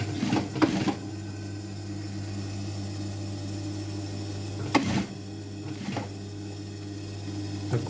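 An industrial sewing machine stitches the fly and zipper facing of a pair of denim jeans, giving a steady mechanical hum with a few sharp clunks and taps as the fabric is handled.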